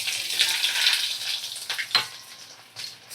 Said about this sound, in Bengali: এবারে দেখো, আমি কুচনো পেঁয়াজ দিয়ে দেব।